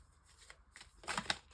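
Albano-Waite tarot deck being shuffled for a reading, a brief run of soft papery riffles that builds to a few quick, crisper flicks near the end, close and quiet, with no voice.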